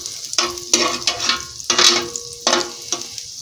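Butter melts and sizzles in a hot frying pan for breakfast, with bursts of crackling sizzle interrupted by scraping stirs, close and fairly loud, no voices.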